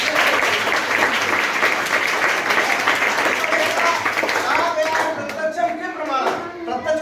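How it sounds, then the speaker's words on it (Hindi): Loud, sustained applause from an audience cheering a para-archer who shoots with the feet and competes at world level for India, dense clapping that thins toward the end as a voice begins speaking. "उस बच्चे के लिए जोरदार तालियां।"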